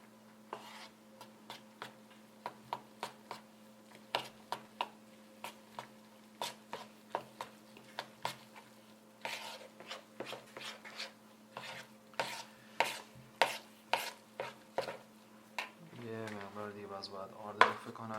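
Barbari bread dough is stirred in a bowl, giving a steady series of soft knocks and scrapes that speed up toward the end, over a low background hum.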